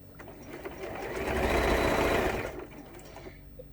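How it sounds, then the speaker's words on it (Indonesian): A sewing machine stitches the curved section of a fabric pouch in one short, moderately loud burst that swells, holds briefly and fades out. "kita potong dulu, kita jahit dulu di bagian lengkungan"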